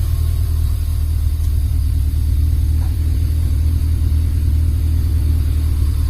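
A Honda Civic Genio engine idles unevenly just after being started, a loud, steady low rumble with slight wavering roughness, heard close up with no talking.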